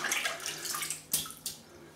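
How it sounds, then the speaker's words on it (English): A shaving brush dipped into a bowl of water before lathering a shave soap, giving soft splashing and sloshing with two brief sharper splashes, close and fairly quiet. "I'm just going to put the brush in the water,"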